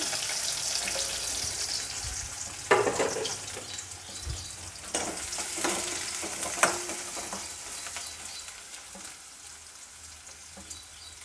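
Sliced onion frying in a hot pan with garlic and curry leaves for an onion zunka, giving a steady close sizzle with occasional scraping and stirring clatters.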